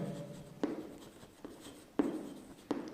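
Pen or chalk writing out the equation of a plane in a math lesson, faint scratchy strokes with a few sharper taps at irregular intervals, quiet and close, with no talk.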